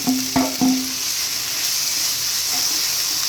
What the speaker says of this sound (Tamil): இப்போ இந்த ஸ்டேஜில் பீஸ் ஆட் பண்ணுறோம்